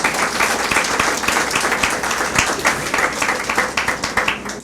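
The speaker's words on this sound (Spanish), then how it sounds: "Den un aplauso al Señor." A church congregation applauds during a Spanish-language sermon, steady dense clapping filling the whole stretch at close range with no voices over it.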